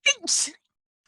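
A single close sneeze: a quick voiced intake followed by a sharp, hissing burst, then silence.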